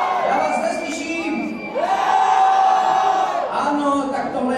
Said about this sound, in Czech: tak tohle je křik vašich maturantů